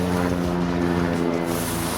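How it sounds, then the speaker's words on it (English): A helicopter flies overhead at a wooded property, giving a loud, steady engine drone with a low, even rotor hum that fills the whole stretch with no talk. "Sorry for the noise, it seems to be a helicopter flying over."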